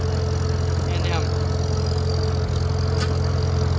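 Farmall M tractor engine running at a steady idle close by, a constant low throbbing hum that continues without change, with someone talking over it.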